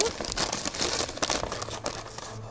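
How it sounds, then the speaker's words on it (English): A painted paper bag for a witch craft is pulled open, giving a steady, close run of dry paper crinkling and rustling with a few sharper crackles, no talking. "So we're going to open this up"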